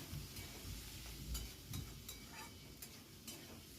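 Beans, salt and turmeric being stirred together in a pan, faint soft sizzling with light scrapes and taps of a utensil recurring every half second or so.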